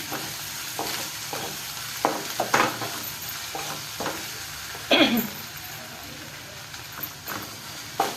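Red potato vegetable being stirred in a pan, a soft ongoing sizzle broken by irregular scraping strokes of a spoon against the pan, close and fairly quiet, with no talking.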